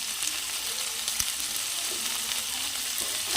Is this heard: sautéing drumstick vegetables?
yes